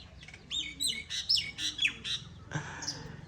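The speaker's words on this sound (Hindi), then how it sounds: "जैसे मौसम ठंडा हुआ है परिंदों ने भी चहचहाना शुरू कर दिया है।" Birds in a Pakistani village chirp and squawk in cool weather, a quick string of bright, sharp calls close by, followed by a brief pause and another call.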